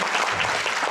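Audience applause at a live concert, greeting the singer's family in the hall, steady dense clapping filling the whole moment at close range.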